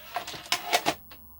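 A short burst of mechanical clicks and clunks from a Philips Matchline VR6860 VCR ejecting a videotape, then a brief whir before it goes quiet.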